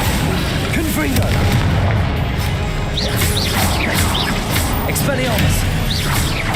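Confringo fire spell blasts in Hogwarts Legacy combat, a series of booming impacts over dense, continuous game noise with scattered whooshing effects, loud throughout and without a clear pause.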